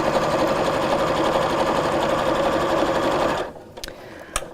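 A sewing machine top stitching through thick layers of fabric runs at a fast, steady whir for over three seconds, close and loud, then stops, leaving a few faint clicks and handling noises.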